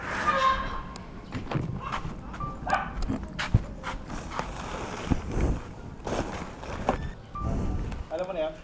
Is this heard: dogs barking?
yes